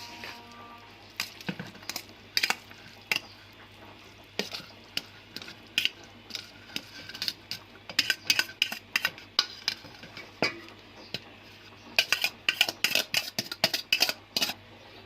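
Vermicelli going into a pot for Lab e Shireen, an Eid dessert, followed by stirring: repeated sharp metallic clinks and scrapes of a spoon against the pot, in clustered bursts with quiet gaps, close and fairly loud.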